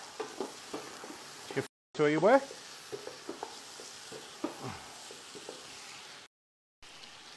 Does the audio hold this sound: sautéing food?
yes